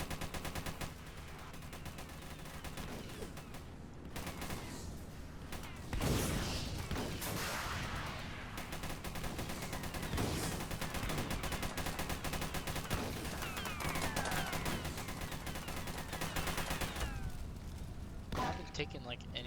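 A tank-mounted machine gun fires in the game Armored Patrol in long, repeated bursts over engine rumble and other battle noise, with someone talking throughout.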